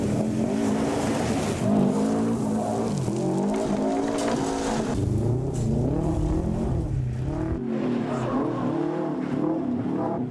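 A farm car driven hard for a filmed stunt scene, engine loud and strained throughout with shifting revs and possible tyre squeal, close and continuous.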